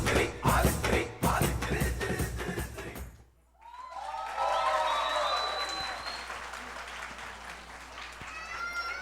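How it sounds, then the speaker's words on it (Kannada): Audience applause at an Ugadi festival event, loud dense clapping for about three seconds, then a brief lull before a second, sustained round of clapping with some cheering that slowly fades. "ಜೋರು ಚಪ್ಪಾಳೆ ಬರಲಿ ಮತ್ತೆ"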